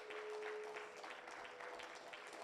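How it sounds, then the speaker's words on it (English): Applause from a church audience at a Feast of First Fruits service, a faint, steady wash of many hands clapping with a thin sustained tone running beneath it. "let's give the Most High God a round of applause"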